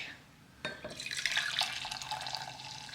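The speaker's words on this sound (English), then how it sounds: "And a pour right away." Liquid pours steadily into a Bodum French press coffee maker, starting after a brief quiet moment and running as a continuous splashing stream to the end.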